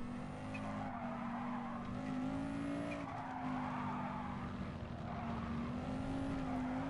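A Group B rallycross car power slides in Gran Turismo Sport, a steady engine drone under long, continuous tire skidding and squealing, close and even throughout.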